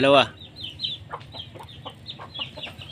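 Backyard mother hen with her chicks, soft clucks and high peeping calls scattered through the clip, with a louder call at the start and human voices faint in the background.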